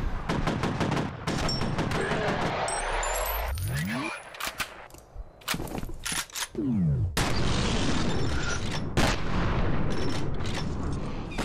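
Loud shotgun blasts and heavy gunfire in the F.E.A.R. video game, a rapid burst of bangs with short pauses and a couple of sweeping whooshes, under faint game effects.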